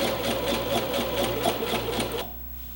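A sewing machine stitches a double dart in a garment, running in a steady, fast rhythmic whir up close for over two seconds before stopping abruptly.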